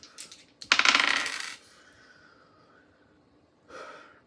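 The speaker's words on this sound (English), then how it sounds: "let's roll the dice just to see if anything comes up" Dice tossed onto a surface for a card reading, a bright rattling tumble that bursts out loudly for about a second and fades, followed later by a softer short rattle.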